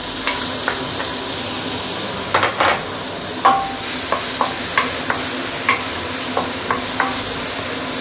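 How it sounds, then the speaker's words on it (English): Fresh ingredients and chili sautéing in hot oil for a Muar Chinese-style assam fish, a loud continuous sizzle broken by repeated sharp clinks and scrapes of a spatula against the pan. "So we want to saute the fresh ingredient."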